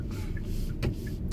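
Kia Soul EV electric car driving along, a steady low road and cabin rumble with a brief louder swell partway through, no engine note standing out.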